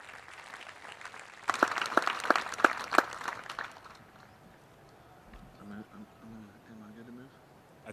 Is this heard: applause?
yes